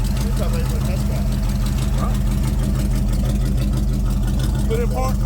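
A C3 Corvette's carbureted engine idles steadily after a carburetor tune, a low, even rumble running throughout, with people talking over it.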